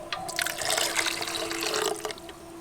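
Water pours steadily into a bucket of cream being readied for ghol, a continuous splashing fill that fades out near the end.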